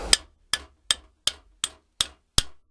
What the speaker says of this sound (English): tap it forward until the holes you drilled line up.